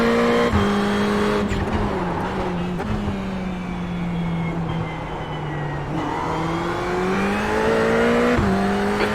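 A Ferrari race car engine in iRacing at Tsukuba drones loudly and continuously, its pitch rising and falling through gear changes and brief lifts on corners, heard from the cockpit with no talking.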